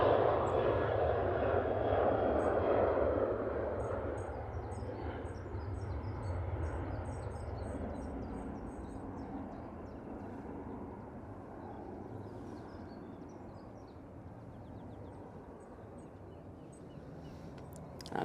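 A Ryanair Boeing 737-800 departing Manchester Airport, its jet roar loud and broad at first, then slowly fading into a distant rumble, with faint high chirps in the background.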